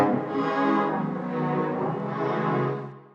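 A string sample pitched down an octave and washed in spacious reverb swells and sustains in one long, smooth tone before fading away, with no voices.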